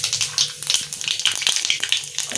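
A tempering of five whole spices, fenugreek among them, crackles in hot oil for a potato curd masala curry, with dense, uneven pops and spits over a constant hiss, close and loud, and no talking.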